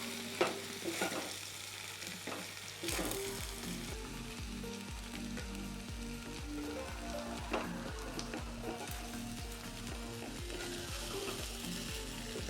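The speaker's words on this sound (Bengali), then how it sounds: "কিছু সময়ের জন্য নাড়িয়ে দেব।" Egg biryani masala with fried onions, salt and food colour frying in a pot while being stirred, a continuous dense sizzle broken by regular scraping and knocking of a spoon against the metal, close up with no talking.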